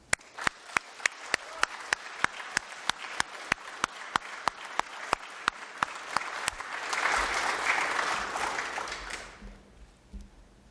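Applause for a cadet winning the General Hal Moore Warrior of Excellence award; it opens with evenly spaced, sharp rhythmic claps, then swells into a broad wash of crowd applause before fading out.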